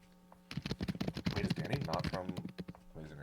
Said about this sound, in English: he has a mechanical keyboard and he types so loud